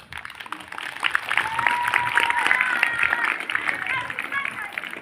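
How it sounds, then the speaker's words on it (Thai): A group of school scouts and girl guides claps at an outdoor activity, dense moderate applause lasting several seconds, mixed with lively chatter and a few raised voices. "โอเคปรบมือครับ"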